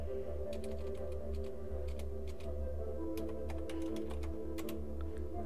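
Keys tapped on a computer keyboard as a command is typed, a run of quick, uneven clicks close by over a steady low hum, with no talking.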